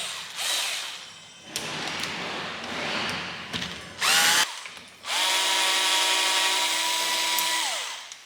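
Power driver whirring as bolts come off the inner plate of a Samsung smart digital door lock with fingerprint reader, in short bursts and then one long steady run near the end.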